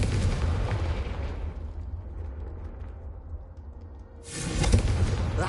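Confringo fire spell in Hogwarts Legacy, heavy booming blasts rumbling near and loud, fading to a low roar before a fresh explosive burst.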